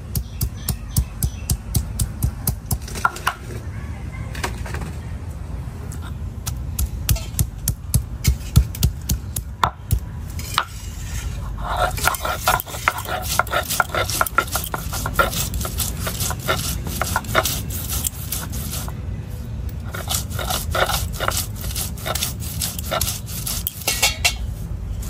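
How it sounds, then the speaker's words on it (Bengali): Spices and dried red chili ground on a traditional grinding stone in a village kitchen, with a steady, rhythmic scraping and knocking close by that continues throughout. "আর শুকনা মরিচটা বাটলে বাটা কমপ্লিট নাকি মা?"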